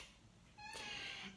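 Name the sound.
cat meowing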